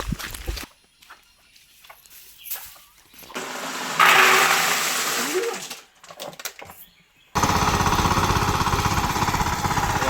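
A tractor engine runs in a steady, loud, rhythmic mechanical clatter near the end, after earlier stretches of intermittent knocks and a rushing, water-like noise, with no talk over it.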